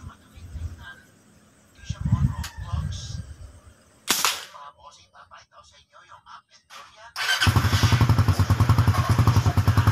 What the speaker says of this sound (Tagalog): Pinapandar nga ng aking kapatid yung motor niya.